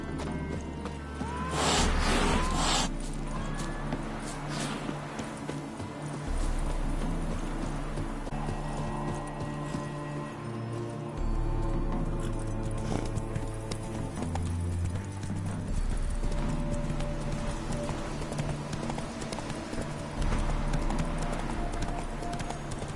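A horse gallops in The Witcher 3, with steady rhythmic clip-clop hoofbeats over continuous game music and ambience, a brief whinny near the start and the hooves slowing toward the end.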